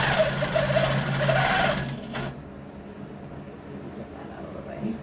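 Sewing machine stitching quilt fabric, a steady loud whir for about two seconds before it stops, leaving quiet room tone with faint handling.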